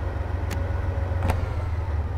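A BR 363 locomotive engine in Train Sim World 2 runs with a steady, deep, loud hum, with two short sharp clicks on top.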